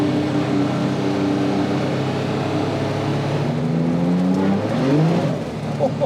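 Restomod Alfa Romeo car with about 400 horsepower accelerating hard, a loud continuous engine roar with rising revs and a gear change near the end, no talking.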